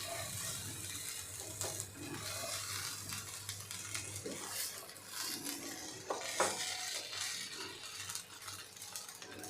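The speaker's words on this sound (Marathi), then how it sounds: "आपल्याला ही भेंडी पुन्हा एकदा हलक्या हाताने मिक्स करून घ्यायची आहे" A spoon scrapes and clinks while gently stirring stuffed okra (bhindi) in a pan, the lid just taken off, with a steady soft sizzle underneath and scattered metallic taps throughout.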